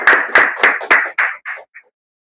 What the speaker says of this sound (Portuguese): por favor, uma salva de palmas ao Bruno e à Marinha